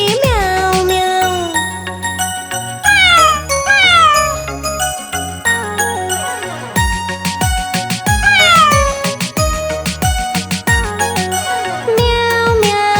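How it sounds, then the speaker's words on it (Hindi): Repeated cat meows in a Hindi children's nursery rhyme, several rising-and-falling calls set into a loud, busy musical backing with jingling tones and a steady beat. "बिल्ली करती म्याऊ म्याऊ"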